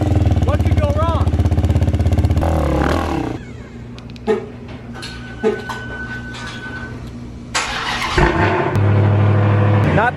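A quad ATV engine idles and revs loudly up close as it is ridden off a trailer, its steady rumble dipping and swelling with a couple of throttle blips, and a voice heard briefly.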